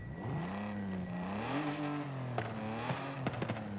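A Nissan Silvia's inline-six engine in Forza Horizon 5 revs and rises in pitch with a growling, whining tone, shifting up and down as it accelerates, with a few sharp clicks near the end.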